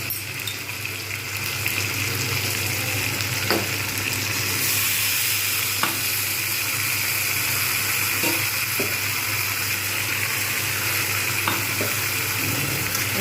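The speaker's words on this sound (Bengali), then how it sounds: "ভালো করে কিন্তু আমি এগুলো নাড়তে থাকবো" Rohu fish curry ingredients with spices, salt, turmeric, ginger and garlic being stirred as they sizzle in a pan with a little water, a steady close frying hiss broken by occasional soft scraping knocks, no voices.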